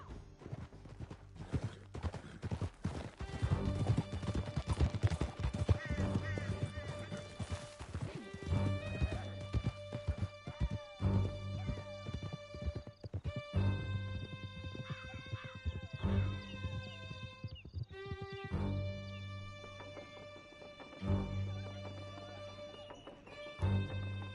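Horses gallop in the Red Dead Redemption 2 video game, rapid hoof clip-clop running steadily and fairly loud beneath a game music score, with an occasional whinny.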